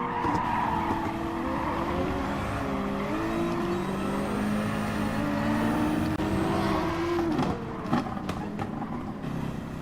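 Race cars in the Gran Turismo video game roar and shift gears continuously as a pack, with tires squealing and skidding now and then, loud and close, while someone talks over the engines.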